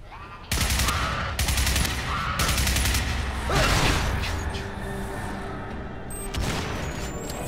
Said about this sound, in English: Don't you shoot at me?